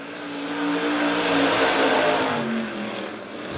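Two race cars roar around the Monett Motor Speedway oval running close together, a loud sustained engine drone rising and falling as they pass through the turns.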